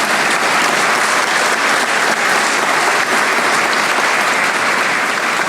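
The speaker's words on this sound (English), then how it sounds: "So I would ask you to please join me in some hearty applause for the good work of Joe" Hearty, loud applause from a crowd at a small business recognition awards ceremony, a thick continuous wash of many hands clapping close by for the full duration.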